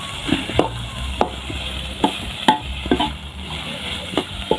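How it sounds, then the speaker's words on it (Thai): Pig ears being stir-fried for a spicy Thai dish, with rhythmic, fairly loud scrapes and knocks of a utensil against the pan repeating roughly every half second over a steady frying hiss. "เอาหูหมูไปผัดนะครับ"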